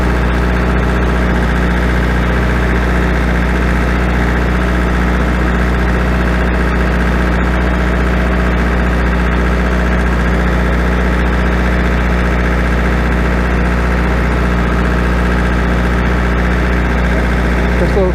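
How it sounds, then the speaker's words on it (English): A small diesel tractor engine idles steadily at close range, a continuous low rumble with a constant drone and no change in pace across the stretch. "This little tractor runs on diesel fuel."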